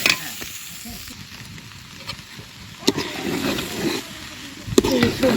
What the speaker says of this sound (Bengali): নেড়ে চেড়ে ভালোভাবে কষিয়ে নিতেছি